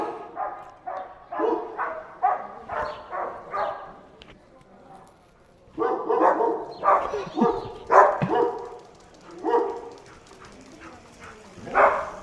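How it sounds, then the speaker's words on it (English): Two dogs bark back and forth outdoors, a string of repeated woofs and yips in uneven bursts, loud and fairly close, with a short lull midway before the barking picks up again. "now dogs are doing dog things together."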